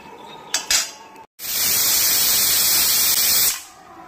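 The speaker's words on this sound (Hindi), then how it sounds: "देखिए दोस्तों, 2 सीटी दे दिया है।" A pressure cooker whistle lets off a loud, continuous rush of steam for about two seconds after a few brief kitchen clatters, while pickle is cooked on a gas stove.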